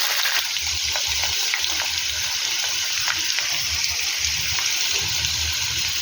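Potato sticks and chopped vegetable stalks hit a hot pan and sizzle loudly and steadily. The close, dense frying noise carries scattered stirring sounds and no voices.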